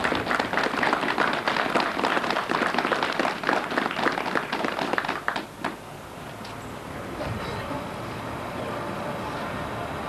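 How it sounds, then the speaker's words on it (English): A crowd at a military award ceremony for soldiers of a transportation battalion applauds loudly and densely for about five seconds, then the clapping stops abruptly, leaving quiet room tone. "let's first give a great round of applause for these great soldiers out here"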